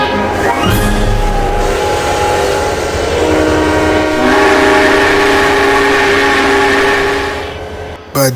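A model railroad scene in which the American Freedom Train backs up slowly, sounding a long, loud horn and whistle in sustained blasts over rolling rail rumble, fading near the end.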